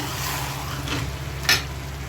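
Beef for Nepali bhutwa fries in its own released oil over high heat, giving a steady hissing sizzle with a brief louder crackle near the end, without talk.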